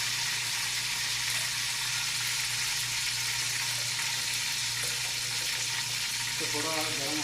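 Small green cardamom pods and black peppercorns sizzle in hot oil, a loud, steady hiss of frying that runs continuously close up, with a faint clatter near the end.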